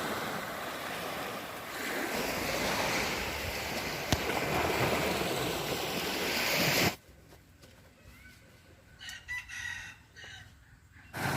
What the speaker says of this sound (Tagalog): sarap pakinggan ng lagaslas ng alon, simoy ng hangin